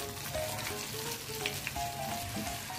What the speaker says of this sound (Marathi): हातात येतील तशा तेलात सोडायच्या